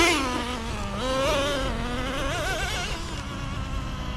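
A Traxxas Nitro Rustler 2.5 RC car with sand paddle tires has its small nitro engine revving on a beach, a high, wavering buzz that rises and falls in pitch at close range.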